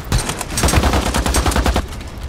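Loud, rapid bursts of automatic gunfire in the zombie shooter game Pandemic Express - Zombie Escape rattle almost continuously for a couple of seconds.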